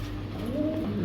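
Large floor-touch satin pigeons at a pigeon sale give a low, drawn-out coo rising and falling once, fairly faint over a steady background hum.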